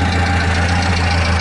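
A Morris Minor engine idles through a new single-box stainless steel exhaust, one and three-quarter inch all the way through, giving a steady, deep, even burble held close and loud with no voices.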